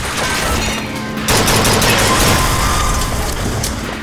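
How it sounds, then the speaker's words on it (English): Gunfire in the video game BioShock Infinite, a dense, loud stream of shots and impacts that jumps in intensity partway through and keeps going without pause. "what exactly is shooting at me?"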